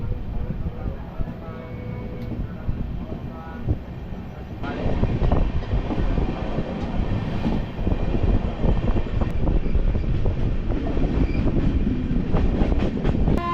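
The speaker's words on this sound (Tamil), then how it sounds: "திருவண்ணாமலை போகிற ட்ரெயின் தாங்க நீங்கள் பார்த்துட்ருக்கீங்க" An express train bound for Tiruvannamalai rolls past Thalangai station with a steady rumbling roar and rattling wheel clatter that grows louder partway through, while a person talks faintly.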